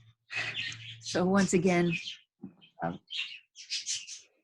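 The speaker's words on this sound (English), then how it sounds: "the birds are, I gave them a new toy thinking they would shut up if they had their mouths full" Pet birds chirp indoors in quick, high, twittering bursts, some under a man's speech and a cluster alone after he pauses.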